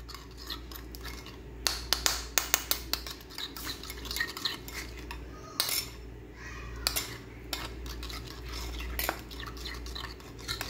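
Cut fruit stirred with a spoon in a bowl after a squeeze of lemon juice, giving repeated clinks and scrapes of metal on the dish in short bursts, fairly close and clear, with no talk.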